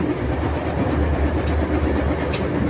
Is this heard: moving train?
yes